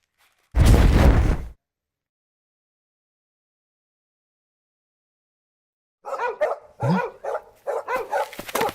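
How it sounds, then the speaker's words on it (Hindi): In a Hindi-dubbed South Indian horror film scene, several dogs bark in rapid, overlapping bursts. A loud one-second blast and several seconds of silence come first. "ये डॉग्स हमें चैन से बैठने नहीं देंगे"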